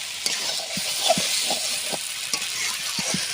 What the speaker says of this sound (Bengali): সুন্দরভাবে এবারে আলু সয়াবিন দিয়ে মশলাটাকে আমি কষে নেব